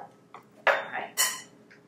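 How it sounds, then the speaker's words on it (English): Tortellini tossed to coat in a baking dish, heard as a few quick clinks and scrapes of a utensil against the dish, two louder bursts close by with quiet pauses between. "I'm just going to toss this to coat"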